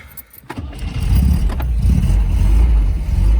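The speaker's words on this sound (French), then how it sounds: "voilà une voiture qui démarre très bien, qui tourne très bien" A 1974 MGB engine cranks briefly and catches, then settles into a steady, loud running idle close by with a low rumbling throb.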